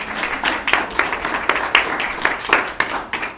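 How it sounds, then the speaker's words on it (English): Applause for guests at a community meeting about dementia-friendly living on a small island, a modest group clapping in clear, uneven bursts close by, with no talking. "Could I have a round of applause for my wonderful guests?"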